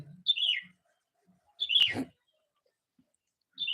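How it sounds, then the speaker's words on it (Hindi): Small birds chirp and tweet close to a house in three short bursts, with quiet pauses between them and no talking over the calls. "हमारे घर के पास चिड़िया जो बहुत चहचहाती रहती हैं"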